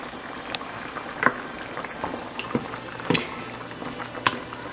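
Mexican rice simmering and boiling in a pot, with a close, steady low bubbling and scattered sharp pops as bubbles burst at irregular intervals.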